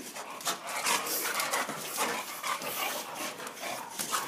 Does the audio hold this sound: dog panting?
yes